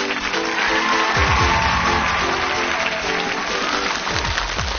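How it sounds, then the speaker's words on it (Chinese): A studio audience on a TV show, the Chinese stage challenge programme Golden 100 Seconds, applauds in a sustained wash of clapping that stays loud and dense throughout, with no voices over it. "掌声送给薛慧薇。"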